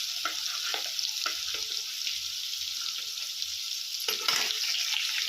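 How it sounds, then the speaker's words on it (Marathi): A paste of chili, garlic and cumin fries in hot oil, a close, constant sizzle broken by occasional soft stirring scrapes. "छान अशी आपण मिरची तेलामध्ये परतून घेऊया"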